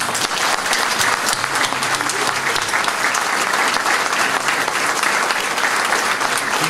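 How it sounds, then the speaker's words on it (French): A hall audience at an evening show in Clarensac applauds performers, steady, dense clapping at close range that holds at an even level throughout with no pause. "Mesdames et messieurs, je vous demande d'applaudir comme il se doit Marcel, Frédéric, Maggie, Aude, Aurélie et R"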